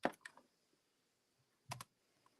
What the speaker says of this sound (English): hit delete on your keyboard